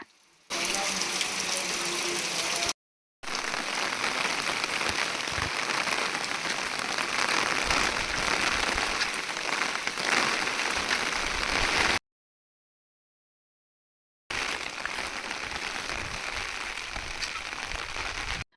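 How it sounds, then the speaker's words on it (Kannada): Heavy, torrential monsoon rain pours down in the green Western Ghats of the Malnad region, a dense, steady hiss and patter close by, broken by a few abrupt silent gaps, with no voices. "ಮಳೆ ಅಂತೂ ತುಂಬಾ ಧಾರಾಕಾರವಾಗಿ ಬರ್ತಾ ಇತ್ತು"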